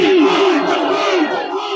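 A large mosque congregation shouts a unified response to a Naara-e-Takbeer chant, a loud sustained roar of many voices lasting under two seconds.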